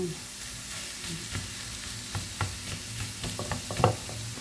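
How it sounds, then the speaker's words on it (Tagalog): Ground meat sizzles in a pan for spaghetti sauce with carrots, a continuous crackling fry up close, broken by clacking stirring taps that grow busier toward the end, with no speech. "Lagay na natin yung giniling."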